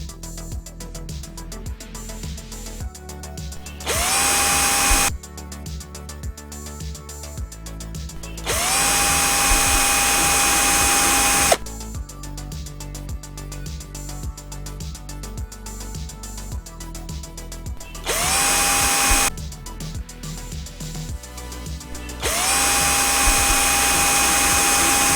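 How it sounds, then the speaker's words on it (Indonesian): A power tool drives out bolts from a metal L-plate covering a reader cable on an IR 2870 series machine, with loud, close whining runs alternating with rattling, clicking stretches over about twenty-five seconds. "Kita perlu melepas dua baut yang di bawah dan dua baut yang di atas."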